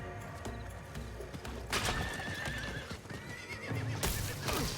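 Roach the horse in Diablo 4 whinnies loudly over clip-clopping hooves, set against game music and ambient effects, with no talking.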